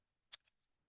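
A single short, crisp hiss of perfume spritzed from a bottle of Oakcha's Pink Euphoria fragrance, a close, quick burst followed by a faint trailing tick, then silence.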